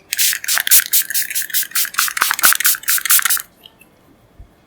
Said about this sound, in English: And now I want to set my face with a mist.